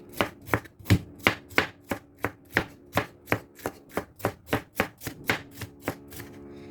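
A knife slices thin tomato slices on a cutting board in about twenty crisp, evenly spaced chops, steady and close, with no voices.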